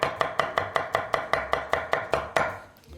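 A knife chopping green onion on a cutting board, about a dozen crisp, evenly spaced cuts in quick rhythm, close and clear, ending with a slightly heavier chop before fading.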